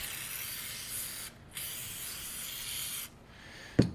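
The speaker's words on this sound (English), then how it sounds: "think we're gonna stick a little bit more lube on this thing." Lube is sprayed from an aerosol can onto an engine part for a Yamaha YFZ450 quad bike rebuild, in two long, close hissing bursts with a brief pause between them, followed by a single sharp knock.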